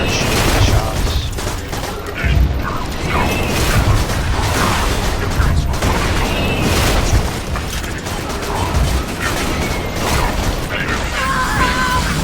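Sustained gunfire at a constructor bot in Borderlands 2, with rapid, dense bursts of shots and booming impacts running continuously and loudly, with a few mechanical clanks mixed in.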